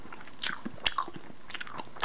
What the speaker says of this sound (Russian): Слышите, как и хрустит, и тает во рту.